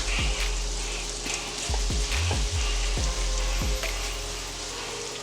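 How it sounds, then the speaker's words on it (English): Shrimp for Cajun shrimp alfredo sizzle and fry steadily in a hot pan with garlic, with a few soft clicks and stirring scrapes over the crackle. "we're going to add our shrimp to it here"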